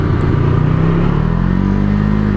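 A Can-Am Ryker three-wheeler accelerates with the throttle held wide open, its engine note loud and close, rising steadily in pitch as it pulls, with wind rumble and no talking.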